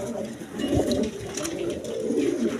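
Pigeons coo in a breeding pair, a male and a female, offered for sale at a pigeon market, with soft throaty coos heard close by amid background chatter and ambient noise.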